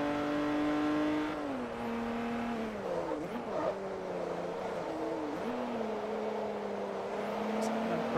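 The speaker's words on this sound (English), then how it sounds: "Not gonna lie, this engine does sound really good. For a Saab, I am impressed." A Saab car engine revs in Forza Motorsport 3, holding a steady droning note that dips and climbs through a few shifts, smooth and continuous at moderate volume with no voices over it.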